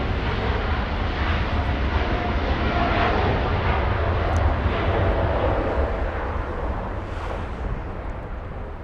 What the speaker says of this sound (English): Big blue plane flying to Amsterdam